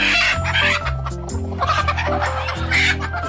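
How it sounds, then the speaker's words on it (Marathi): Hens give low, continuous, grumbling clucks close by, with overlapping calls filling the whole moment. "हे खूड कोंबड्या आहेत गोरगावठी कोंबडी खूड होते"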